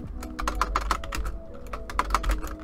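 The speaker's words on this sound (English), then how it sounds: "we're going to type in the text that we want" Quick, uneven clicks of keys on a computer keyboard being typed close by, in short bursts with a brief pause in the middle.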